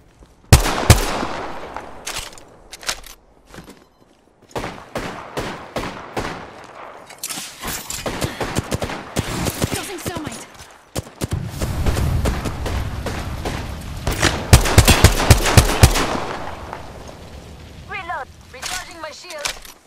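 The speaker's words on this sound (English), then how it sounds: "Taking fire." Gunfire in the Apex Legends game, with rapid bursts of automatic shots and single cracks coming in repeated loud volleys, close and continuous across the whole stretch, with brief pauses between them.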